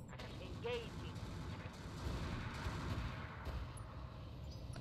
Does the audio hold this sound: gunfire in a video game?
yes